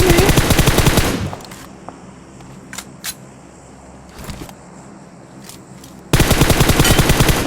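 Rapid bursts of continuous automatic gunfire in a video game, loud and dense at the start and again near the end, with a quieter stretch of scattered single shots and ambience in between.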